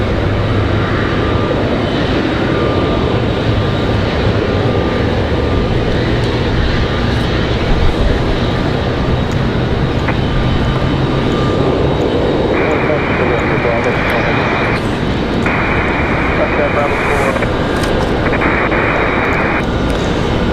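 Republic Airways Embraer E-175 jet touching down on runway 23 right at Raleigh-Durham, a loud steady engine roar running throughout with beeping tones near the end, under a voice talking.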